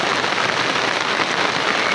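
Heavy rain pours steadily and loudly in a dense, continuous hiss, close and unbroken, with no voices over it.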